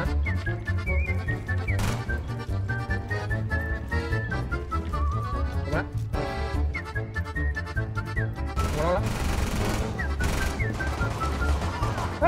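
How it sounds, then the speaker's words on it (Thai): Rapid automatic gunfire hammers away in Rainbow Six, loud close bursts firing continuously over layered game music and effects, with no speech. "เฮ้ยไอ้เชี่ยนั่นมันยิงรัวเลยวะ"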